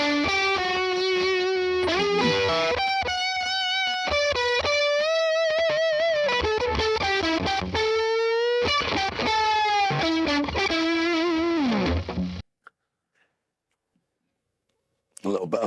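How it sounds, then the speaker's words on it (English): A Fender Stratocaster on its middle single-coil pickup plays a loud, lightly overdriven phrase of sliding and bent notes through an AC20 mid-gain drive amp plugin, then stops, leaving near-silence with faint pickup hum. "we're on the middle, pick up on the Strat, and we're on this AC20 mid-gain drive"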